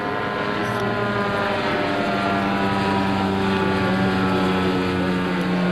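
An autogyro flying at Rotorfest, its engine and rotor producing a steady, loud droning hum with strong tonal layers, continuous and unbroken across the whole stretch.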